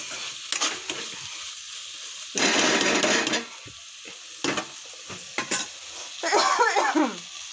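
A curry of cluster beans and tomato cooks on low heat with a gentle sizzle, broken by intermittent scraping and stirring bursts and a brief clatter of utensils.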